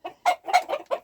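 Chickens in a deep-litter coop clucking in quick, close bursts, several short squawks tumbling over one another during a brief scuffle.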